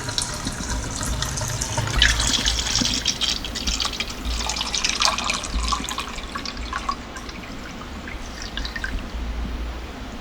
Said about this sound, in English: Gonna add about 5 liters of water.